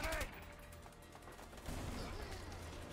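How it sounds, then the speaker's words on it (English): Gunfire in the video game A Way Out: a brief burst of rapid shots at low level, mixed with game noise, with a second cluster of shots after a pause. "They're shooting me!"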